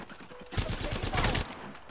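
In the Apex Legends battle royale game, a burst of rapid automatic gunfire rattles out loudly and close for about a second, rising suddenly and cutting off sharply.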